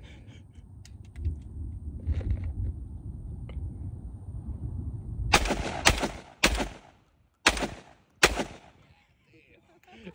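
Five sharp, loud gunshots ring out at a gun range, spaced irregularly over a few seconds, after a stretch of low rumbling background noise and scattered handling sounds.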